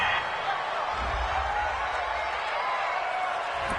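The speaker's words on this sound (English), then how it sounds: "This home crowd, they're happy with that call." Home crowd in an American football video game cheering and clapping after a penalty call on third down, a steady wash of distant crowd noise with a few louder swells.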